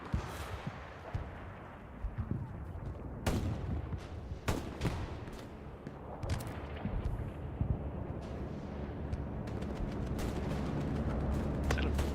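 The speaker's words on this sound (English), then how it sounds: "Is that a bombing run? It is." Heavy bombardment from a bombing run in the World War II shooter Hell Let Loose, sounding as a string of deep, booming blasts and sharp gunfire cracks over a constant rumbling battlefield roar.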